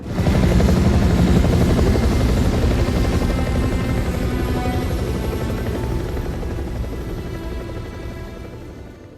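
Loud rotor thumping with a steady whine from two arriving helicopters, close and dominant at first, then slowly fading slightly as it continues alone.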